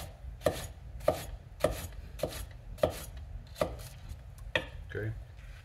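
A kitchen knife cuts a peeled pineapple into slices with crisp, regular chopping strokes, about eight sharp thuds spaced roughly half a second apart, close and clear, with no talk.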